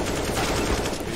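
A burst of rapid gunfire from a video game, with dense overlapping shots packed into about a second.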